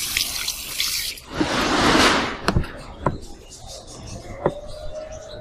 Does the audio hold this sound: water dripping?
yes